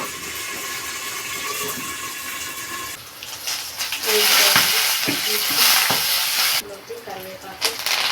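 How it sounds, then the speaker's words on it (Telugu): Green chillies fry in hot oil with a loud, close sizzle and hiss that swells midway, with clatter from stirring and a brief tonal sound at the start. "ఆయిల్ వేడెక్కిన తర్వాత పచ్చిమిర్చి వేసుకున్నాం."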